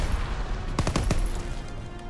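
A burst of four or five rapid gunshots from a machine gun in the World War II video game Call of Duty: WWII, loud and sharp, set over dense battle noise and rumble.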